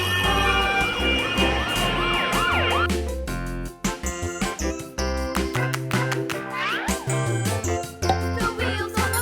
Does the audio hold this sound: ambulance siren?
yes